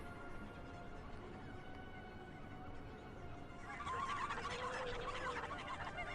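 Oocca bird creatures in The Legend of Zelda: Twilight Princess HD make faint, fowl-like clucking and gobbling calls. The calls swell noticeably louder partway through over a quiet game background.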